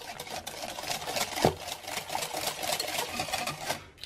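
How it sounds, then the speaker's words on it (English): Coconut flour and coconut milk are whisked into waffle batter, giving a quick, rapid clatter of a whisk against a bowl, close and continuous, with one sharper knock partway through. "And we'll just whisk together to make a waffle batter."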